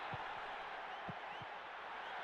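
Stadium crowd in the N64 football game International Superstar Soccer 98, a steady broad roar of disapproval at moderate distance with a few low thumps, continuous throughout.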